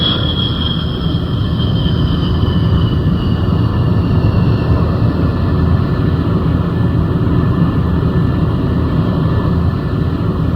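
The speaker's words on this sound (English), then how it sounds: "And now it's time to bring the Sabre back to Earth." A Sabre jet comes in to land, its engine a loud, steady roar with a broad rumble and a high whine that fades slightly over the first few seconds, continuous throughout with no voices.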